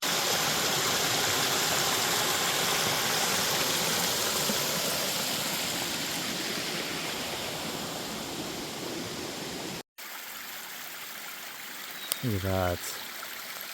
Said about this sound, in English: how the water just cascades down those ridges along the mountain